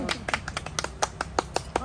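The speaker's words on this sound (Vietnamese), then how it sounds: "vỗ tay gia đình nha" Short burst of family applause, a few sharp uneven claps close by, mixed with voices speaking over them.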